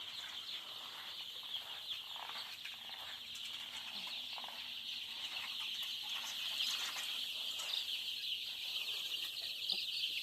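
A flock of baby chickens in a brooding enclosure peep and cluck continuously, a faint, dense, high chatter without any talk.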